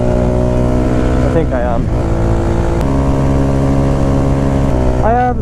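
A motorcycle or car engine drones steadily and loudly throughout an early-morning ride out to Risca, with someone talking briefly over the constant hum.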